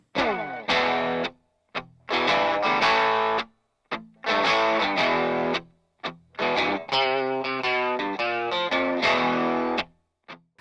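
A P90-loaded Les Paul runs through a BK Butler tube driver, giving crunchy overdriven rhythm chords that start and stop in choppy phrases with brief silences between, solo and close.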